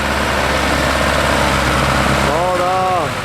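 A parked tractor hitched to a wide trolley idles with a steady, loud low rumble, and a voice rises briefly over the engine near the end.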